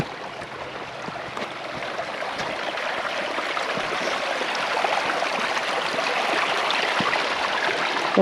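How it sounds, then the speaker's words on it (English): Runoff from a town road and a field road pours steadily into a 24-inch culvert, a continuous broadband rush of flowing water with no break. "A fair amount of water coming from the town road as well as from my road in the field there, combining into the 24-inch culvert."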